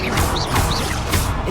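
The Wingardium Leviosa spell is cast in the video game Hogwarts Legacy, a loud, dense magical effect with a whooshing roar and bright shimmering swells that pulse briefly, filling the short moment without pause.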